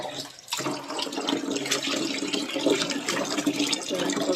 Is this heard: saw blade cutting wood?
no